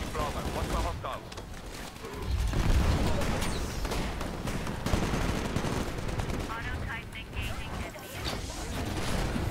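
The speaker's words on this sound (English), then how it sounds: "No clue what I'm shooting at, just shooting." Dense, continuous automatic gunfire and explosions from a Titanfall Hardpoint match, loud and close, with mechanical clanks and a voice speaking under the shooting.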